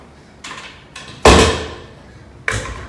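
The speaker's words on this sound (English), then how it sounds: "Close that door." A door swings shut indoors with one loud, close thump, preceded by a couple of softer bumps and followed by a further knock shortly after, with no talking.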